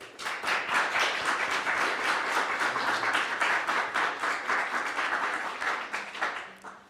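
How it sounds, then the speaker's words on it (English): An audience at a book awards ceremony claps steadily for several seconds, a full even wash of many hands that tapers off at the end. "Round of applause."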